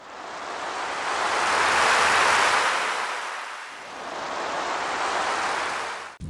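Ocean waves wash onto a shore in a steady hiss that swells, eases briefly, then swells again, heard alone without voices.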